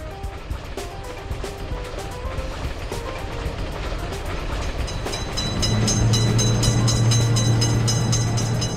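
A train rolls past a road level crossing with a lifting gate, a loud continuous rumble and rattle of wagons close by, joined midway by a sustained low droning tone.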